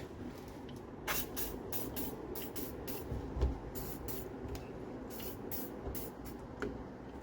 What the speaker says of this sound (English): Now I'm just going to hit it with a little WD-40